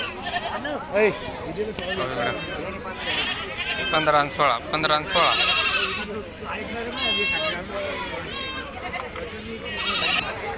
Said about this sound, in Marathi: तर इकडं गावरान शेळ्या पहा मित्रांनो.